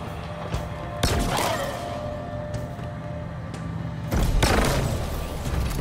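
Gunfire rings out in the Halo Infinite campaign as shots are aimed at lights. Two sharp loud bursts sit over a steady game ambience with a low hum, and no one speaks.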